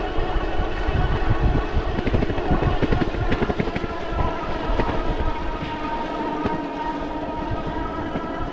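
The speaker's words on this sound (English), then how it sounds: "the motor sounds like it did on the throttle only test. Not much change there. I'll let you listen to it through this next section" Riding uphill on a Velotric Packer 1 cargo e-bike, the motor gives a continuous whirring drone mixed with steady wind and road rumble that holds at an even level throughout.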